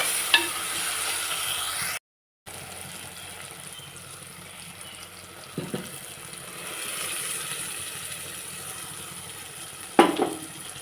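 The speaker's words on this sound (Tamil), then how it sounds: "இனி நம்ம அரைச்சி வச்சுருக்க மசாலா இதில் விட்டு கொதிக்க விட்டுறலாம்" A pepper fish curry with ground masala simmers and sizzles softly in a pan with a steady low bubbling, broken by a brief gap and a few sharp clinks of a utensil.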